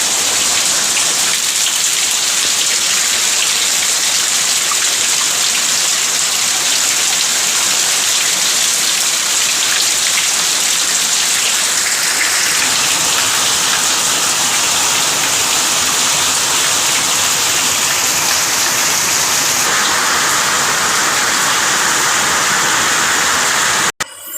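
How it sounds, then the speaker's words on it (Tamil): Heavy rain pouring down in Tiruchendur, a dense, loud, continuous hiss of drops striking surfaces, steady and unbroken throughout with no voices. "இங்கே பாருங்கள் மழையை பாருங்கள் எங்கள் ஊரில் எப்படி பெய்யுதுன்னு"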